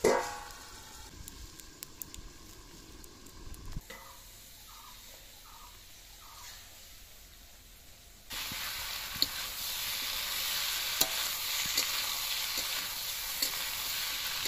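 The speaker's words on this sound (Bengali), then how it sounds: "আলু ভালো করে কষে নিয়েছি" Potatoes sautéed in a pan in a village kitchen start with quiet scraping and light stirring sounds. Then a loud, steady, close sizzling hiss takes over for the rest of the stretch.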